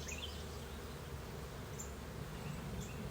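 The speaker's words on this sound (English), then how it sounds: "Bees." Honeybees drone steadily around an open hive during an inspection, a dense, even buzz filling the whole stretch, with a few individual bees passing close now and then.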